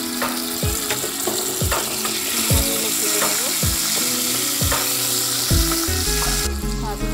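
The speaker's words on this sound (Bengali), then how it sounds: "কড়াতে যে তেলটা রয়েছে তার মধ্যে এই চিংড়ি মাছগুলো দিয়ে" Prawns hit hot oil in a wok that was just used for frying pointed gourd and potato, giving a loud, steady sizzle with a few scraping stirs and no voices.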